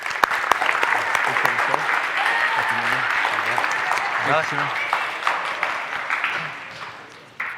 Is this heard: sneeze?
no